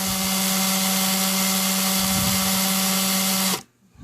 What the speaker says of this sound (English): And once it starts, you speed up the drill